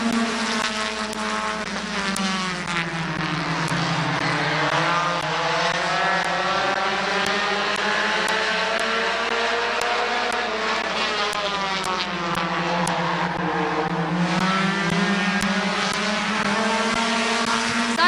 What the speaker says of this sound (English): Halfway to go in your compact heat race.